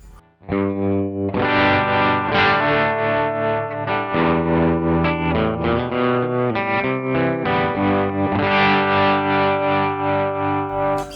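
Sustained electric guitar chords through a tremolo effect pedal with a pulsing, wavering volume, loud and alone.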